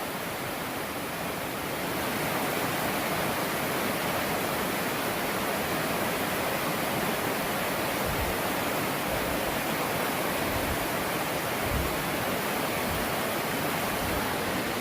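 High, rain-swollen river rapids rush right beside a trail ledge, a loud, constant roar that goes on without a break.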